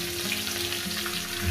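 Spice paste hits potatoes and cauliflower frying in oil, giving a close, continuous sizzle with a busy crackling texture and a slight swell at the end, with no talking.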